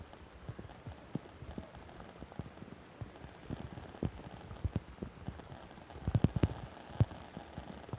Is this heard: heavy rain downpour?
yes